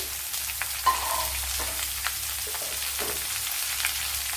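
Two medium-sized, finely chopped onions frying in a pan, a soft steady sizzle with a few light stirring clicks and scrapes, close by and without voices.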